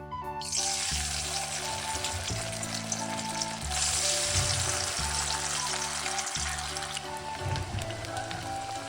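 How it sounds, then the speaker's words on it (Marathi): Crispy corn kernels fry in a pan with dense, bright sizzling and popping throughout, loud and close, steady over a low stove hum, with no voices. "सो आता आपण याच्यानंतर ते फ्राय करून घेऊया."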